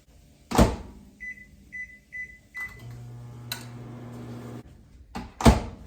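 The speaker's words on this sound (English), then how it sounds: "Warming up my milk." A microwave oven warms milk: a door thump, then four short beeps, a low steady hum for about two seconds, and more door and cupboard knocks at the end.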